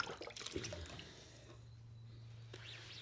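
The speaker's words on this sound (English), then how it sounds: "Rinse this out." Running water rinses out a foam-covered potato test surface during a car-cleaning product test, starting with splashing and dripping, then settling into a steady low hiss of flow.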